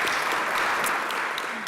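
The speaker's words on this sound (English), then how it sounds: "I think that deserves a round of applause." Conference audience during a rare disease week roundtable gives a brief round of applause, dense clapping filling the moment evenly with no voices over it.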